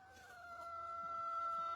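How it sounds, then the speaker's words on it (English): A hen in a hen house gives a faint, sustained vocal call, quiet and close, lasting under two seconds. "look at the Vine Street happy hens"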